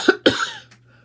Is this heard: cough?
yes